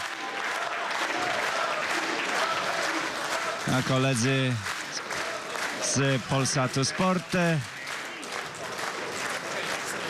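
Crowd applause fills an arena at a 2011 boxing match, Dawid Kostecki versus Byron Mitchell, a steady clapping wash throughout with a commentator talking over it.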